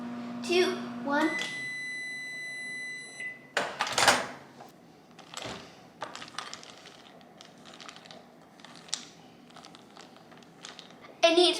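A microwave oven heating a bowl of chocolate melts gives out a steady high beep tone at the start, followed by clicks and door handling sounds, with a person talking over it and a final beep.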